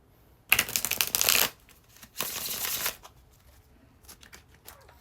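An Ancestor tarot deck being shuffled up close, two distinct bursts of riffling cards, the first about a second long and the second slightly softer, followed by a few light taps and card handling in a quiet room.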